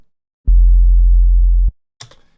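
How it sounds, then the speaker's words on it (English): A pure sine-wave sub bass near 50 Hz holds steady and loud for about a second, then cuts off cleanly, followed by a brief, softer noisy burst. "this is roughly a 50 Hertz sub."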